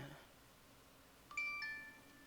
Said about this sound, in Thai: ขอโทษกับเสียงโทรศัพท์ผมข้าง